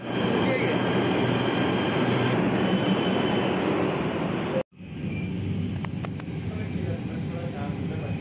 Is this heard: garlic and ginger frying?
no